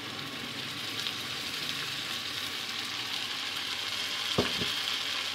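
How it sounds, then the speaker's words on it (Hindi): Spice paste frying in a karahi over a high flame gives a steady, loud, even sizzle throughout, with a couple of quick clinks near the end. "और आंच को कम नहीं करना है बल्कि उसी आंच के ऊपर हमने इसको फ्राई करना है।"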